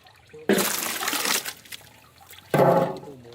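Fresh watermelon juice pours out in two splashy gushes, a loud burst of liquid that trickles off before a second strong pour, close by and without speech.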